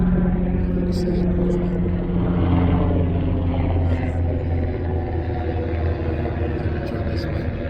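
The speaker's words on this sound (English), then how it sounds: "Helicopter flying over." A helicopter flies over outdoors, making a steady low rumble that continues throughout at moderate loudness, with faint clicks on top.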